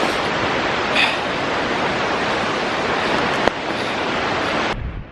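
Loud, continuous roar of an Icelandic waterfall heard from very close, a dense steady rush of falling and splashing water with no pauses and no voices.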